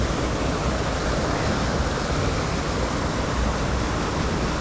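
Water pours over rocks near a temple, a dense, steady hiss and rush that stays close and constant throughout with no voices.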